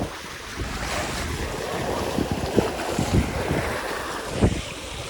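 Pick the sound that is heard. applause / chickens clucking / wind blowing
wind blowing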